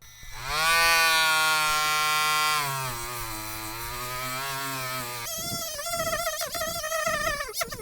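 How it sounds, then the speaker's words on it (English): Rotary tool running at variable speed, a loud steady high-pitched whine that drops in pitch partway through, then turns rougher and fluctuating as it grinds. "you can use the variable speed control on your rotary tool to really get a fine finish"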